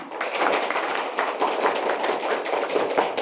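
Audience applause at a school award ceremony for a national writing and reading competition, a dense, steady wash of many hands clapping at once, fairly loud and unbroken throughout.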